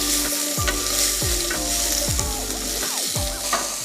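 Spinach, fennel and asparagus sizzle steadily in a pan on the stove, with repeated scraping strokes of stirring every second or so, close and alone without talk.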